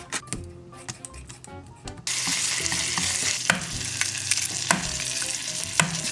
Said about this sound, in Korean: 베이컨 기름을 좀 내줘야겠다.